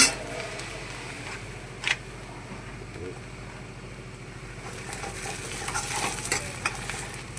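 Masala for a brinjal sabji being sautéed in a pan: a steady close sizzle with occasional scraping stirs of a spoon, growing a little busier toward the end.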